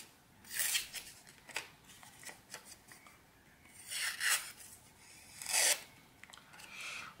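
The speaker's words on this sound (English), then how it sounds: "made quick work of that printing paper" A WE Knife Peer blade slicing through sheets of printing paper, a string of close, dry rasping cuts, some quick and light, others longer and louder.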